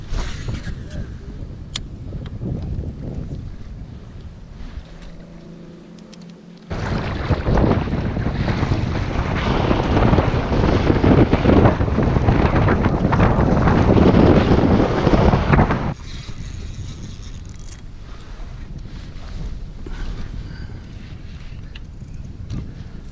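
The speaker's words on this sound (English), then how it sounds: "Damn, it's windy." Strong wind buffets the microphone on a lake during kayak fishing, a steady roar that swells loudly in the middle and then eases back to a persistent rush.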